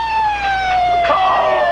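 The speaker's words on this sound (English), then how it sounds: "Here comes the ambulance now." An ambulance siren wails at a 1985 wrestling event, its steady gliding tones sounding loud and close and sliding slowly downward as the vehicle arrives, with crowd and road noise beneath.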